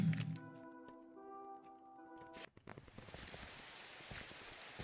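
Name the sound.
rain falling in a video game (Minecraft Skyblock)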